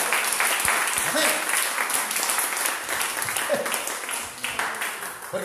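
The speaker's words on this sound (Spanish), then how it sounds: "¿Cuántos pueden darle un aplauso al Señor por la mujer que le dio?" A church congregation applauds steadily, a dense wash of many hands clapping at once, with scattered voices rising over it and a few short vocal calls mixed into the sustained noise.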